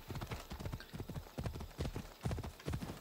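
Rapid hoofbeats of a horse galloping in the video game Assassin's Creed Odyssey, a steady drumming clip-clop rhythm of hooves striking ground, fairly close and continuous without any talking.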